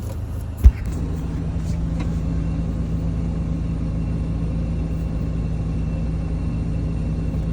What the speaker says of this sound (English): I've been sitting in standstill traffic now for over half an hour